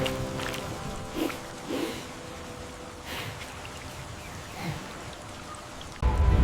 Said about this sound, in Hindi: बारिश जोरों पर थी, झोंपड़ी टपक रही थी